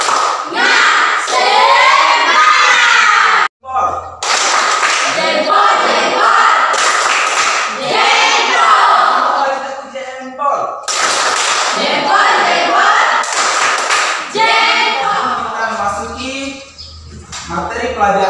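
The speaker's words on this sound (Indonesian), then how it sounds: "Baik anak-anak, ayo kita tepuk semangat dulu." Schoolchildren perform a rhythmic spirit clap in a classroom, with loud bursts of clapping and thuds mixed with energetic group chanting and shouting voices in repeated short phrases.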